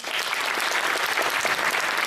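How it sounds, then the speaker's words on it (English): Sustained, even clapping from an audience at a young poets' audition in a Birmingham library, a dense wash of hands applauding a just-finished poem, with no voices over it. "Keep that applause going, guys."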